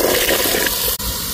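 Water pours steadily into rice batter for a Mangalore-style rice rotti, a loud continuous rushing gush close by, with one brief break near the end.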